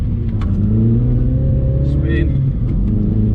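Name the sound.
Mini John Cooper Works engine accelerating in sport mode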